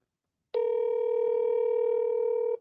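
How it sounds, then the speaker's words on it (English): A steady electronic phone tone, likely the ringback of an unanswered call, starts abruptly after a short silence and holds unbroken for about two seconds before cutting off; no voices are heard. "listen, it's ringing"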